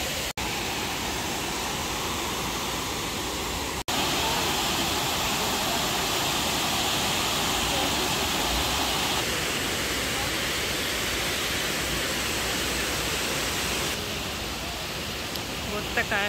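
A rushing, turbulent waterfall roars as a steady broadband wash of water noise, loud and close, with a couple of brief clicks near the start and no clear talking.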